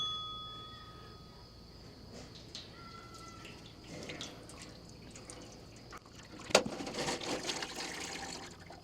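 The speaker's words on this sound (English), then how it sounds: "we're gonna simulate an oil change here by dumping all this old oil out of this crappy, old-fashioned oil pan here" Old motor oil poured out of an old-fashioned oil pan, a soft liquid trickle that swells into a fuller splashing pour near the end, faint and fairly close.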